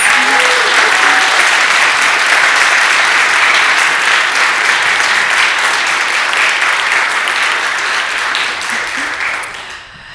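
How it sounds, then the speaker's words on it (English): A church congregation at a Sunday morning service gives a round of applause, dense continuous clapping filling the room for several seconds before tapering off at the end. "Congregation, let's give Kimberly one more round of applause."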